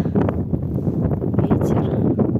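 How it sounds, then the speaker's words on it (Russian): Gusty wind buffets the microphone in low, uneven rumbles, constant and close, with faint rustling and a bit of background talk. "Ветер."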